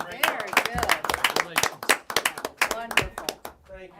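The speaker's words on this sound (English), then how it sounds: "Let's give them another round of applause." Hands clap in a brief round of applause at a county board of education meeting, loud, irregular claps mixed with overlapping talk and voices.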